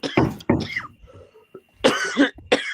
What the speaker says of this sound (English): It's a forceful cough